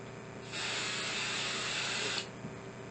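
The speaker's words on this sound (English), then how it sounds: "so I am just going to go off camera and spray this" Fabric spray hisses from an aerosol can in one steady burst of about a second and a half, close and fairly loud, starting and stopping abruptly, with no talk over it.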